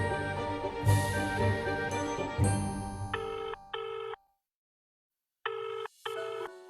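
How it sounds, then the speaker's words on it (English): A telephone rings in repeated paired electronic bursts with a short pause between pairs, close and clear, over a brief stretch of busy background before the ringing. "it all begins with a phone call"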